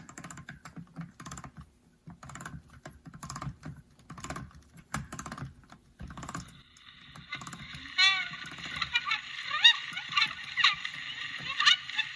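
A hand crank winds a talking phonograph doll, a Max Oscar Arnold Arnoldia model, making rapid mechanical clicks and ratcheting. The clicking grows into a busier, steady whir midway, with faint voices in the background.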